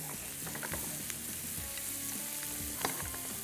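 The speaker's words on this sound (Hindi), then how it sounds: "बस अब इसको करेंगे थोड़ा सा फ्राई" Onions frying in a pan with a steady soft sizzle, broken by irregular stirring scrapes and light clatter, close and fairly quiet, no talking.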